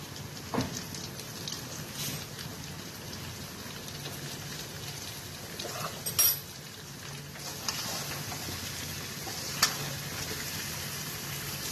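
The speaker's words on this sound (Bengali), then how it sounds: "পেঁয়াজটা ভাজা ভাজা হয়ে এসছে এবার আমটা দিয়ে দিলাম মধ্যে" Fazli mango pieces and fried onion sizzling in a pan for sweet mango pickle, a soft steady patter-like crackle with a few sharper knocks and clinks, quiet and without speech.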